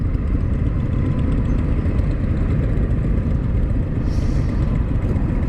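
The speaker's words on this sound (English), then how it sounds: "that sounds pretty good for stock exhaust and everything." A 2020 Indian FTR1200 motorcycle with stock exhaust rumbles steadily and loudly throughout, a deep continuous exhaust drone with no voices.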